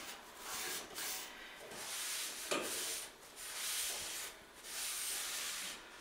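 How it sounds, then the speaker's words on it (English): A cloth rubs steadily across a waxed wood surface, wiping off excess wax in soft, continuous swishing strokes with brief pauses, close and fairly quiet. "So I'm just going to wipe off the excess wax."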